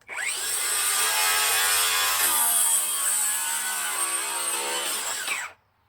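Circular saw set to a 45-degree bevel cuts through a board in one loud, continuous high-pitched whine lasting about five seconds, then stops abruptly, heard up close with no talk.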